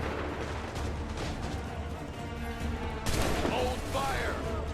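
Musket volley gunfire in Assassin's Creed III in a battlefield setting. Distant, booming shots blend into a dense, rumbling battle roar, which grows sharper and louder near the end, with faint voices in the mix.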